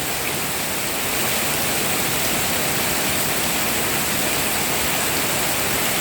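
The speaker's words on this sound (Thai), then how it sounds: "วันนี้เหลือแต่ฝนแล้วพี่น้อง" Heavy rain pours down in a steady, dense roar, loud and unbroken, with no voices present.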